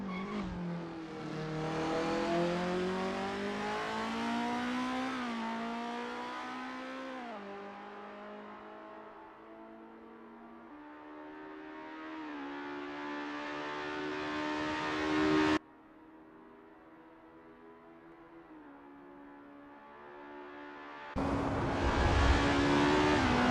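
Formula race cars warming up at the Lake Garnett circuit in 1963. High-revving engines whine and rise and fall in pitch as cars pass, sometimes loud and close and sometimes fading, with a sharp cut to new passes and no talk.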